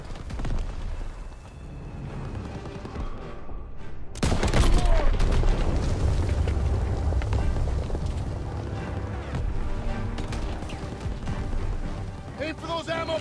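Rifle fire in the Call of Duty: WWII campaign's Operation Cobra mission: a sudden loud burst of shots erupts about four seconds in, followed by sustained battle noise and explosions, with voices talking over the combat.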